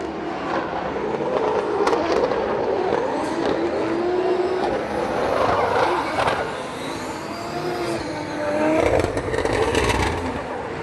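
A drift car's engine on a practice run at the Drift Masters event in Finland roars steadily and loudly for the whole stretch, swelling and easing as the driver works the throttle, with faint scraping and crackling mixed in.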